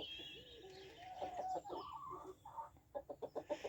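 Chickens and a cockerel clucking close by, a mix of murmuring calls and short squawks that ends in a run of about six quick, evenly spaced clucks, with no talking.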